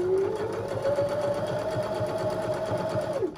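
A sewing machine hums and whirs at a steady speed for a few seconds as it zigzag-stitches flannel for a reindeer craft, winding down abruptly at the end.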